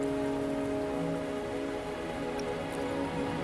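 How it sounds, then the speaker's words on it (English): Steady rain falls in the video game Wuthering Waves, a dense, even hiss of drops on surfaces that holds constant throughout with no voices over it. "Are you trapped here by the rain?"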